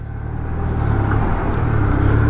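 A Hero Xtreme 160R 2V motorcycle engine running up from start as it pulls away in first gear in sport mode, a close, loud low rumble that swells slightly and holds steady.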